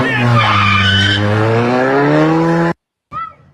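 A car pulls up quickly with loud, close tires skidding and squealing in a long, sweeping, pitch-shifting screech. It cuts off abruptly, followed by a brief short sound after a moment of silence.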